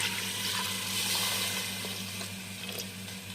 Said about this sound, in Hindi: तो हम इसमें अब पानी ऐड करेंगे और इसको पकने के लिए छोड़ देंगे।